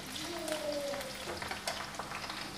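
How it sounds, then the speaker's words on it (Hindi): Chopped onions fry in hot oil in a pan for fried rice, giving a soft, steady sizzle with faint crackles and a brief tonal squeak, heard alone at moderate volume. "प्याज का तड़का हो चुका है, लगभग हो चुका है, हल्का और हो जाए बस"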